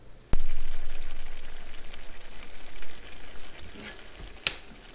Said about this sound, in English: All righty, we got this simmering nicely.